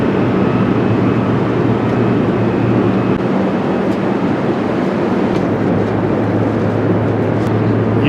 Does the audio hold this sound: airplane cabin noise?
yes